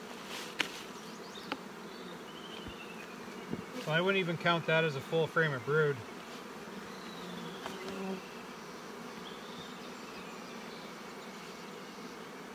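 Honey bees hum around an open hive during cold spring brood nest management, a steady low buzz throughout, with someone talking briefly in the middle.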